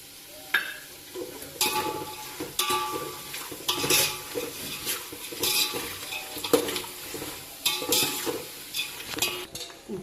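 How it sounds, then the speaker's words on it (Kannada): Mustard seeds and cumin fry on a low flame for a poha and puffed-rice chivda snack, under a soft sizzle. Repeated spatula scrapes and clinks against the metal pan sound close by in an irregular rhythm. "ಲೋ ಫ್ಲೇಮಲ್ಲಿ ಇದನ್ನ ಫ್ರೈ ಮಾಡಿ. ಈಗ ಸಾಸಿವೆ ಹಾಕಿ. ನಂತರ ಜೀರಿಗೆ ಹಾಕಿ."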